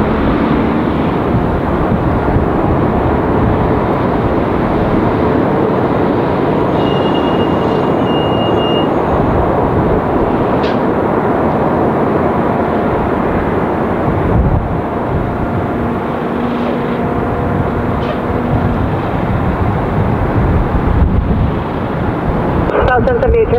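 At LAX in Los Angeles, an airplane roars during its takeoff run, a broad, loud, steady rumble that lasts throughout, while radio voices talk faintly beneath it.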